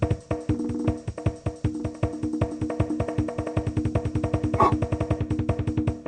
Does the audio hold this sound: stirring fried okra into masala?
no